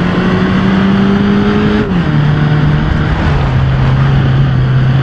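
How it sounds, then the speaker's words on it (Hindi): A 2020 Hyundai Creta's engine drones loudly and continuously in a driving game while climbing hills, its pitch stepping down as the car labors under load. "गाड़ी थोड़ा सा लोड मानती हुई सी चल रही है यहाँ पे।"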